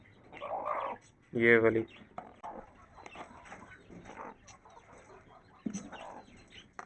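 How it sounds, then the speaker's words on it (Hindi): A broody hen calls in a home poultry yard, giving a couple of short clucking bursts with one sharp loud squawk, while a person talks quietly nearby. "अक्सर कुड़क मुर्गियाँ इस तरह की आवाज़ निकालती हैं"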